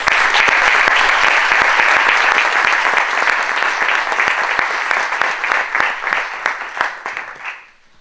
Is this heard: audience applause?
yes